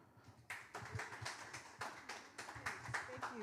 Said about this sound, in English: Please give a huge round of applause for your host for the evening.